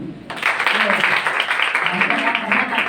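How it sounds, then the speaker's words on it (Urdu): Audience applauding the prefects' team at a Quaid Day 2023 school event at a government women's college in New Karachi: sustained, dense clapping that lasts the whole stretch, with voices mixed in. "جو ہمارے پریفیکٹس کی ٹیم ہے ان کے لیے بھی بہت ساری تالیاں"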